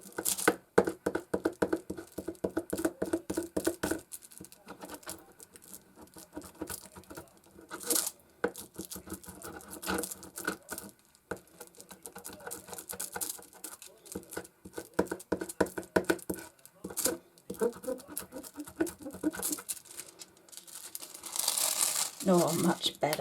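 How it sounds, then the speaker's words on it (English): Scissors rubbed firmly along the edge of a leather wallet, giving repeated dry rubbing, scraping and crinkling strokes, close and fairly loud, with short pauses between bursts and a person talking over parts of it. "And now this one we'll just do straight burnishing with the scissors, just to see if that does make a difference."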